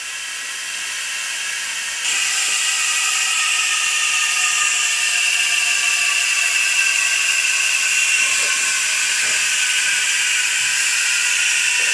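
An air-powered tool fills a car transmission with fluid, starting with a faint hiss that jumps to a loud, steady pneumatic rush and whine that runs on unbroken, with no talking.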